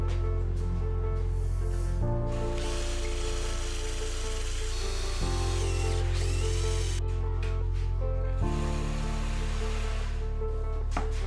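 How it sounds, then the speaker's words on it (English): A power drill boring a hole through the wooden base of a crosscut jig, its motor whining steadily in several bursts that shift pitch as the load changes, close up and alone. "Drill the base according to the hole on the fence."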